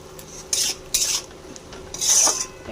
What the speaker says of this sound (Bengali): এবার মশলা সব কিছু একসাথে কষিয়ে নিলাম।